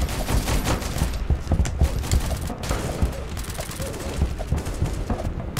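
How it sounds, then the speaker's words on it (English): Rapid close-range gunfire in a Roblox shooter game: dense, loud bursts of overlapping shots and fusillades that pound on without pause for several seconds. "This is close shooting, not sniper."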